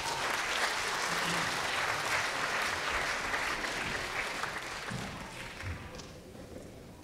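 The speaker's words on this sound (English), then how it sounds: "A big round of applause for Angel." Sustained applause from an audience at a church Christmas concert, loud and dense throughout before tapering off slightly toward the end, with a few thumps mixed in.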